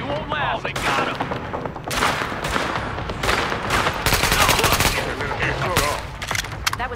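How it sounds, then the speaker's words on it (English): Rapid bursts of automatic gunfire and sharp single shots crack repeatedly during a firefight in the video game Tom Clancy's The Division, loud and dense, with a voice talking over parts of it. "That was a gunshot."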